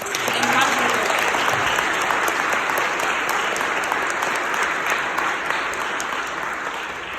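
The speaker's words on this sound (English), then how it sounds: "Give yourselves a round of applause." A room full of people at a political meeting claps continuously, a dense, even burst of applause lasting about seven seconds at steady loudness.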